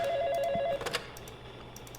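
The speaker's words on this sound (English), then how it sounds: "I really don't want to deal with the phone call" An old-style telephone rings in the horror game Five Nights at Hanwil's 2, a bright trilling ring for under a second, followed by clicks and faint room hum.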